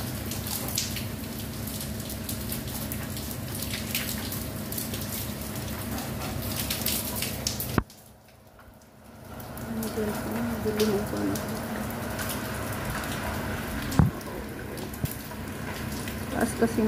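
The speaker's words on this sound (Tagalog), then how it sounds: "Lakas ang ulan." Steady heavy rain in Jerusalem hisses continuously, briefly dropping away for about a second before returning, with a sharp knock partway through.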